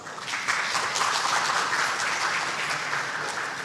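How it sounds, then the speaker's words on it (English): Audience applause at an academic education conference, a steady wash of many hands clapping at moderate level throughout, with no talking. "Please give him a big applause."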